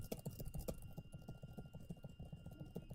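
Fingers tap on a computer keyboard in a quick, uneven run of soft, close keystrokes, faint and steady for the whole stretch with no talking.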